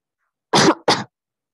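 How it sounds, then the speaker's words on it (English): Two short, dry coughs from a single nearby person, the first slightly longer than the second, with silence before and after. "Sorry about all the coughing."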